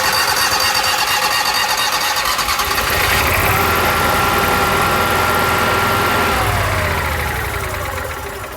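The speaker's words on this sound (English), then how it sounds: "then you can press the start button to fire it up" A motorhome's onboard generator engine cranks and fires up a few seconds in, then settles into a steady, loud mechanical running drone close by, with no talking.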